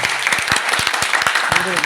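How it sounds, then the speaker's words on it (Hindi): Hearty applause from an audience at a network marketing business plan celebration event, steady dense clapping throughout with a few voices mixed in. "आपके लिए जोरदार तालियां सभी के लिए"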